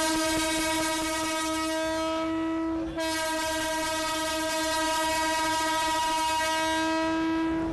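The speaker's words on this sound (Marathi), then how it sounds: "बीड रेल्वे स्थानकामधून अहिल्यानगरसाठी ही रेल्वे जी आहे ती सध्या सुटलेली" Train departing Beed station toward Ahilyanagar sounds a long, loud, sustained horn that runs nearly the whole time with one short break, over a faint rumble of rail cars, no talking.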